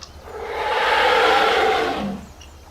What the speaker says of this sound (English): Let's hear the roars now.